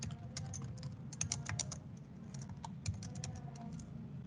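Code tapped out on a computer keyboard: continuous quiet keystrokes in uneven bursts over a low steady background hum, with no one speaking.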